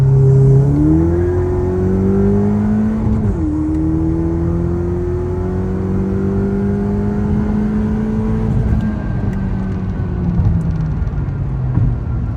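A Ford Fiesta ST with a downpipe and E30 tune at about 25 psi of boost, its engine note climbing hard through a gear, briefly dropping at a shift, then rising again in a loud, close, steady pull before easing off near the end.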